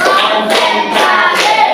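A classroom of sixth-grade pupils clapping together on a teacher's counted cue; loud group claps arriving in a few rhythmic bursts, close and filling the room.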